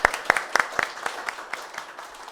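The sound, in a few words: audience applause at a talk concert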